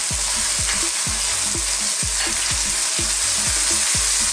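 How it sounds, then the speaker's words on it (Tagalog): A sweet and sour shrimp sauce of tomato sauce, banana ketchup, onions and tomatoes is stirred in a frying pan, giving a steady close sizzle with rhythmic spoon scrapes about twice a second. "Haluin lang po natin."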